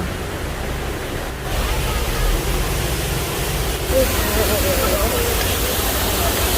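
Jeongbang Waterfall on Jeju's coast pours as a steady, loud broadband roar, swelling a little partway through and holding constant, with no distinct voices standing out above the rushing water.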